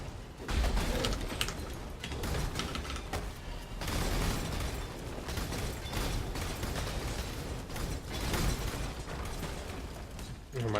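Birds cooing and fluttering inside the video game Path of Exile, a dense continuous mix of pigeon-like coos and clicking mechanical game effects at steady loudness throughout.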